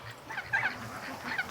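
A young pet goose honks in soft, short, rough calls, several brief squeaky honks close by in a quiet backyard setting.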